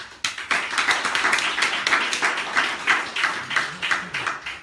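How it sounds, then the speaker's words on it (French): An audience applauds a speaker at a talk, with steady, loud, close clapping that keeps going through the clip without any voices. "vous pouvez l'applaudir très fort"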